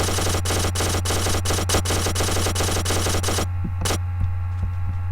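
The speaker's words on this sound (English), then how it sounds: "So I'll show you what the gun does." A gun in a Minecraft mod fires in a rapid, loud, evenly spaced burst of about a dozen shots over a steady hum, then stops, leaving one isolated shot and quieter clicks.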